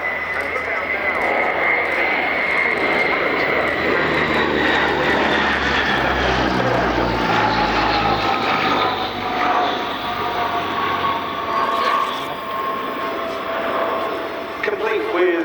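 A French Dassault Atlantique ATL2 maritime patrol aircraft flying past, a loud, sustained propeller-engine drone with a shifting pitch as it nears and recedes, nearly the whole time, with voices intermittently audible over it.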